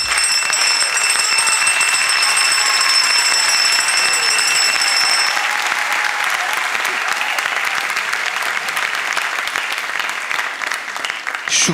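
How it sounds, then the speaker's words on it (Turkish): Sustained, loud audience applause on a Turkish comedy show, continuous and dense for over ten seconds, with a ringing bell or alarm tone layered over the first half and crowd noise throughout. "Alkışlıyoruz yani."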